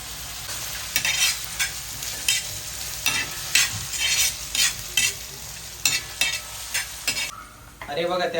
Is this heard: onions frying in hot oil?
yes